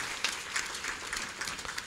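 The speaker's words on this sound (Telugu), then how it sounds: "ఈ తల్లిదండ్రులు కూడా గట్టిగా ఒకసారి మనం చప్పట్లు కొట్టి" A congregation at a sisters' religious service in Mogilicherla, Khammam, applauds the parents with sustained crowd clapping. Sharp individual claps stand out at moments above a dense, even wash of many hands.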